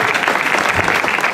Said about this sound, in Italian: un applauso al nostro Agostino Fallara